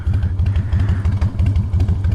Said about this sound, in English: I am riding the 2006 Harley Davidson Fat Boy